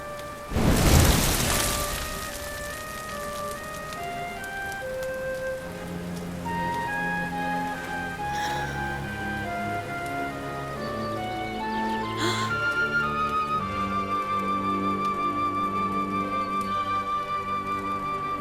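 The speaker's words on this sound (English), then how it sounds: "Looks like the rain's dying down." Rain falls steadily in Dragon Quest XI, a constant soft patter of drops on surfaces under sustained musical tones, beginning with one louder burst, and no voices.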